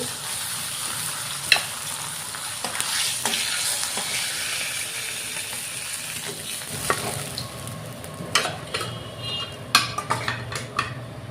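Shrimp (chingri) frying lightly in a pan, a steady soft sizzle running throughout with scattered clinks and scrapes of a utensil against the pan, growing busier toward the end.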